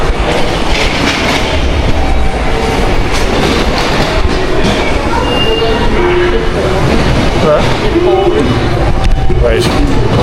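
A train at a Tokyo railway station, loud rumbling wheels, clatter and metallic squeals filling the whole stretch, close by, with people talking faintly beneath the noise.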